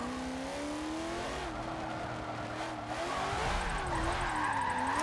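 A car drifts in Forza Motorsport 7, its engine droning and wavering in pitch as the outside tire slides and squeals, a sustained close whine with brief dips and a rising screech near the end.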